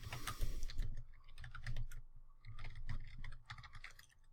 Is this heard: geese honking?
no